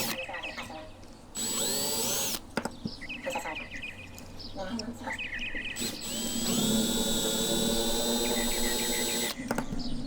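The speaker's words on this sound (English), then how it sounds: "I'll use a 9/64 drill bit to drill the head of the pillars." A power drill with a 9/64 bit drilling into the head of a die-cast metal Hot Wheels pillar whines in several bursts, pitch rising as it spins up, with brief pauses between runs of grinding at close range.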